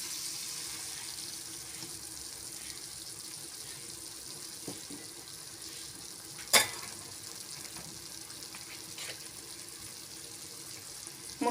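Cauliflower and eggs cooking in a pan on the stove give a faint, steady sizzle of frying with one sharp clink partway through; no one speaks.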